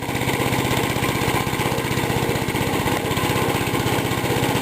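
An old Gravely two-wheel garden tractor being driven, its small single-cylinder engine running with a loud, steady, rapid chugging putter, close by and uninterrupted, with no talking.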